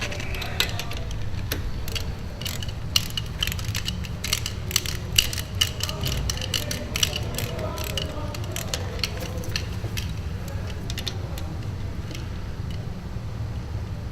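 A ratchet tightens the oil sump plug with a new washer on a motorcycle during an oil and filter change, giving runs of small, close mechanical clicks over a low steady background hum, with no speech.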